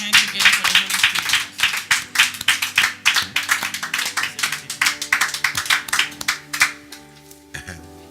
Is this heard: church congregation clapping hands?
yes